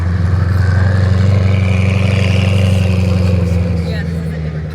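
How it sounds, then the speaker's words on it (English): Koenigsegg supercars roll past at an outdoor concours event, a steady loud low engine drone with a deep rumble that eases slightly toward the end, heard alongside crowd chatter. "Oh, there's two Koenigsegg's on a move."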